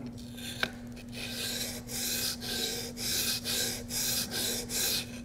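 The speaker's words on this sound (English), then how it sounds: "Keep the chisel from digging into the stone." A chisel is pushed and pulled across a sharpening stone, giving a steady rasping scrape in about seven even strokes with short pauses between them, close and fairly quiet over a constant low hum.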